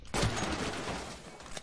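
Rapid gunfire in a Counter-Strike match played on FACEIT, a dense sustained burst of shots filling the whole moment at steady loudness, with a brief sharp crack near the end.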